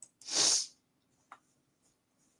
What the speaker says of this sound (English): Could have been sneezing like mad.